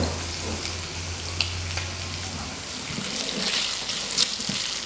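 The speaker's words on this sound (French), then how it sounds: "bien caraméliser les lardons, c'est important" Lardons caramelise in a pan for a coleslaw, giving a steady, moderate sizzle close by. A few faint clinks sound as they shift, and no one speaks.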